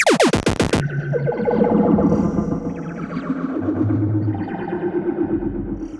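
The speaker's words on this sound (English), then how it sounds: "So you can make your own effects using convolution." A convolution effect processes sound for psychedelic trance production. A burst of sharp percussive hits gives way to smeared, echoing, distorted textures that swirl and ring on without any voices.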